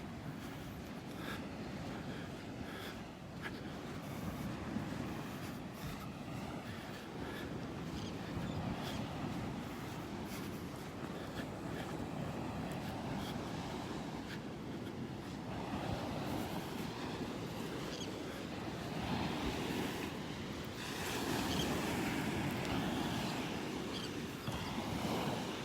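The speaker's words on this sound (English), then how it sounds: "Give you one last listen to those waves." Steady ocean surf washing onto a beach in North Naples, Florida, a continuous broad roar of breaking waves with no talking, swelling a little louder near the end.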